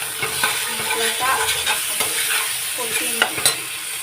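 Potatoes and large paneer pieces sizzle steadily in a hot pan while a utensil stirs and scrapes, with occasional clinks against the metal.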